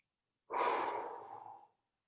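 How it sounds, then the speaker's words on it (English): One long, deep inhale through the nose, close and fairly loud, lasting about a second before fading into silence. "take a big deep breath through your nose"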